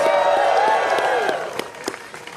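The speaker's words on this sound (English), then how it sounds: "Let's give them a round of applause." An audience applauds officials at a New York press event, a steady ripple of clapping under a sustained voice that trails off, the claps fading gradually toward the end.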